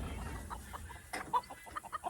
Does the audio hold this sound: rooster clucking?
yes